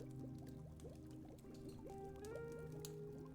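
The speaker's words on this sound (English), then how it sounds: "I have a water jar." Water is poured from a water jar in a quiet ASMR setting, a soft, close, trickling pour with small bubbling gurgles and faint handling sounds.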